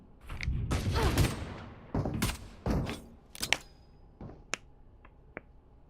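Gunfire in an esports match of a competitive shooter, bursts of sharp shots in quick clusters followed by a few isolated single cracks, fairly faint.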